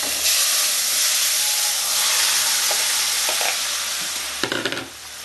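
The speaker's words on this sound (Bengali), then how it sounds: "জিরাটা খুব বেশি ভাজবো না জাস্ট একটু নাড়াচাড়া করে আমি তরকারিটাকে দিয়ে দেবো" Cumin seeds fry in hot oil with a loud, steady sizzle and stirring scrapes, then a burst of crackling clatter near the end as curry vegetables drop into the pan.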